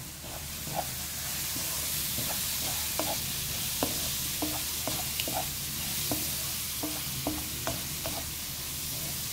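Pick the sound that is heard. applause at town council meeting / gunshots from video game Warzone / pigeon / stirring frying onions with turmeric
stirring frying onions with turmeric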